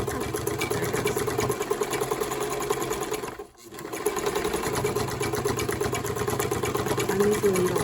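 A vintage Dressmaker S-2402 sewing machine stitching thick material with a thin needle, a steady close mechanical whir that stops briefly midway, then resumes with the same even rhythm.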